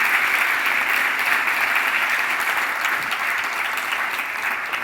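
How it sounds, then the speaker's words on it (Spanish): Sustained applause from a live audience, dense and steady for several seconds, fairly loud, with no talking over it. "me gustaría dedicarle un aplauso a una persona tan importante"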